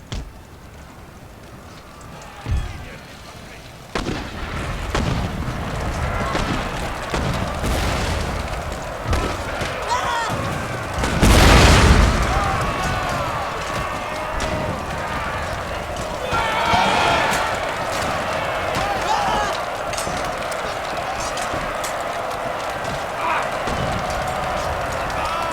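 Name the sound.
mortar artillery fire in the video game Empire Total War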